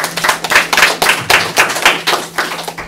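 A studio audience at a Korean talk show on the digital divide claps loudly in a steady, even rhythm for the whole stretch, with no talk.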